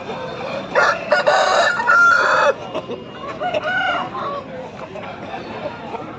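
A rooster crows loudly and close at a busy Sunday livestock market in Pileru, one long crow followed by softer clucking, with faint market chatter and bustle around it.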